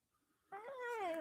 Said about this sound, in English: My cat's sitting right here.